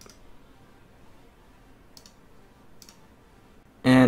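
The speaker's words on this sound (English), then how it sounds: "Let's click download" A computer mouse clicks a download button while updating the BIOS of an ASUS ROG STRIX B450-F Gaming motherboard: two faint, sharp clicks in a quiet room, then a sudden loud burst at the end.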